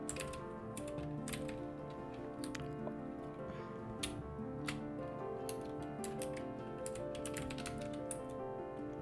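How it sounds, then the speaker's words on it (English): Quiet, close typing on a computer keyboard, irregular soft key clicks tapping along steadily over a faint electronic hum. "Now I'm gonna type"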